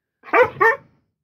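A dog barks twice in quick succession, close and fairly loud, then silence.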